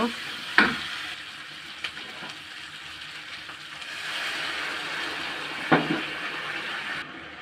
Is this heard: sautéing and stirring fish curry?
yes